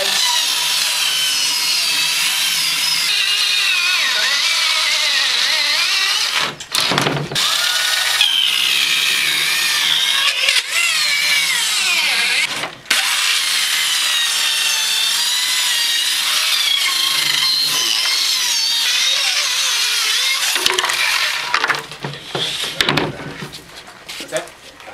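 A power saw cuts wood for a training barricade, a continuous loud, rasping whine with brief pauses and restarts, while people talk over it.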